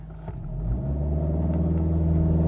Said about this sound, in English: We're in drive, and we're just going to see what the tacho revs up to.